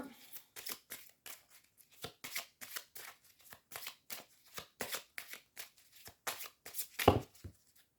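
Lenormand fairy oracle cards are shuffled in repeated quick riffling bursts. The close papery flutters come in an uneven rhythm with short pauses between them.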